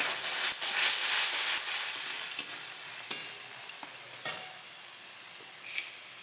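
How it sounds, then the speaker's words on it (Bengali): Egg curry ingredients with salt are stirred and mixed in a pan: quick scraping and clinking strokes over a continuous close sizzle of frying, with no talk. "এটা ভালো করে মিক্স করে নেব।"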